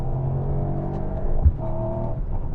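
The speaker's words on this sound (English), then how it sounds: "overruns, pops and bangs, that deep bassy burble" A Mercedes-AMG GT 55 V8 coupe idles with a deep, low rumbling exhaust burble, steady and fairly close, with a slight surge midway; no talking.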